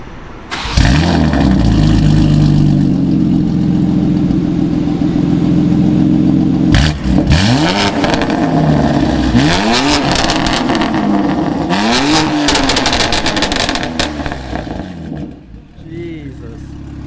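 A BMW M3 G80 with a Bootmod3 OTS tune revs hard and drops off, its exhaust crackling and popping in bursts between pulls, loud and close with people talking excitedly over it.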